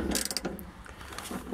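A 1/4-inch ratchet with an extension unscrewing 8 mm bolts on a Toyota Yaris fuel filter. Quick, close metallic clicks of the pawl come in a brief rapid run.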